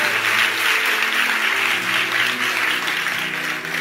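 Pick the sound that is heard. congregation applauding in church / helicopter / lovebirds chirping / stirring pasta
congregation applauding in church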